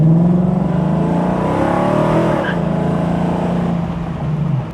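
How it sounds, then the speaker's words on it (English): A restomod car engine revs at about half throttle, a steady, loud, sustained engine note with a slight rise and fall across the whole stretch. "that wasn't even full throttle. That was about half throttle."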